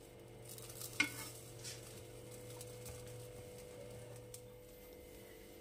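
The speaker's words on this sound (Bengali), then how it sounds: "এরকম করে আমি সবকটা পাটিসাপটা ভেজে নেব।" Patishapta pancake batter frying in a pan gives a faint, steady sizzle with a soft scrape near the start, over a low background hum.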